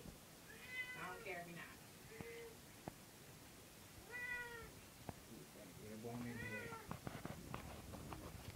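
A cat being bathed with skin and coat shampoo meows repeatedly in drawn-out, complaining cries, close by, with a person murmuring softly between them.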